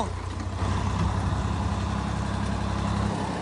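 A tractor engine idles with a steady low rumble throughout, close by and fairly loud, with no talking.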